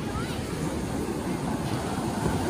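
Strong ocean surf breaking on Pantai Cenang beach in Langkawi, a steady loud wash of waves with wind buffeting the microphone throughout.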